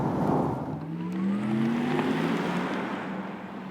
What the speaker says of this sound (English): let's accelerate it out without the sports sound